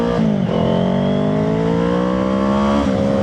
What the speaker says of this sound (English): I was just kind of twisting the throttle as I'm going. And it picks up speed real fast.